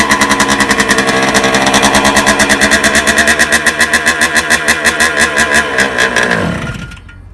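A motorcycle engine cranks and fires, settling into a loud, close, steady pulsing idle that chugs for several seconds before cutting out and dying away abruptly.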